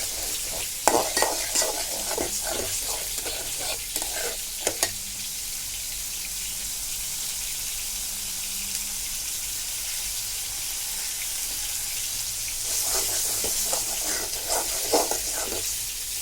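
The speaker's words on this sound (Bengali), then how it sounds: "আস্তে থেকে যখন নেড়ে যাবে তখন তেল ওঠা করে কষিয়ে নেবে" Spice paste sizzles steadily in hot oil for kochu shak, taro leaf curry, while a spatula scrapes and stirs in bursts at the start and end, close and fairly loud.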